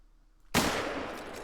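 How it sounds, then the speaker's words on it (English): A .270 rifle shot at a wild boar in the hunting game Call of the Wild: one sudden loud crack after near silence, followed by a long, broad rolling echo that slowly fades. "we're going to use the 270 on this one as well, and see if we can't make a perfect shot"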